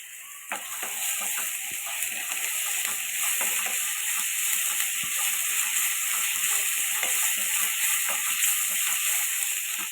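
Ginger garlic paste fries in a pan for chicken gravy, giving a constant close sizzle with scattered crackles and occasional scraping, with no voices.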